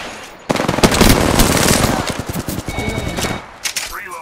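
Rapid automatic gunfire bursts loud and close in Apex Legends, dense stuttering shots through most of the stretch, then tapering into scattered shots and clatter.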